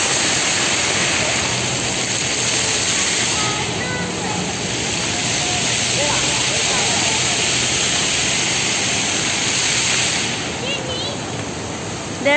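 The Fountain of Wealth at Suntec City gushes in a loud, steady roar of falling and splashing water that fills the whole span. Voices of a crowd are audible faintly beneath it.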